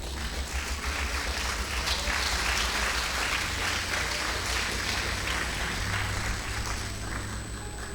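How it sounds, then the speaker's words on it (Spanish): A church congregation applauds steadily, a dense, even wash of many hands clapping at moderate distance that holds throughout without talk. "Le damos un aplauso al Señor."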